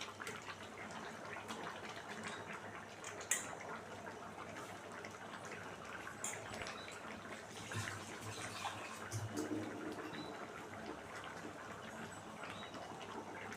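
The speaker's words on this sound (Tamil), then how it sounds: "கொஞ்சமாக தண்ணி சேர்த்து கழுவி ஊற்றிட்டு" A small splash of water rinsing ground masala from a container into a pot of simmering goat intestine gravy, a soft steady pour and trickle under low kitchen background noise, with no talking.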